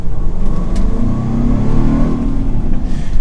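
A 2024 Land Rover Defender 110 V8 engine revs loudly and continuously, its deep growl rising and falling close by with no talking.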